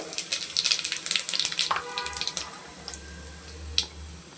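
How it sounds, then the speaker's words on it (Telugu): Shahi jeera cumin seeds crackle and sizzle in hot oil in a pan, with sharp pops, frying hiss and a low hum from the kitchen behind. "ఆయిల్ వేడెక్కాక షాజీరానా వేసుకోవచ్చు, లేకపోతే జీరా వేసుకోండి."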